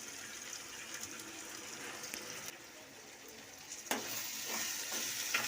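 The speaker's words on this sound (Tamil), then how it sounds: "இதை நல்லா வதக்கிக்கணும்." Turmeric, chili powder and garam masala sizzle softly in a pan while being stirred for rava kichadi, a faint steady frying hiss with a few scraping stirs and a sharper clink near the end.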